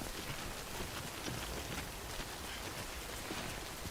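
Steady rain falls in Death Stranding, a dense, even hiss of timefall pattering on surfaces that holds constant without letup.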